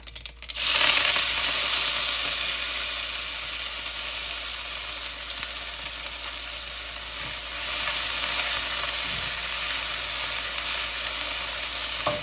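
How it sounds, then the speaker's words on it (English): Chilies, onions, tomatoes and curry leaves sauté in a hot pan for vetha kozhambu with eggplant, making a loud, continuous sizzle that starts abruptly and holds steady, with a few faint stirring taps and no voices. "While the onions and tomatoes are sauteing, open, give it a little bit of a toss here and there"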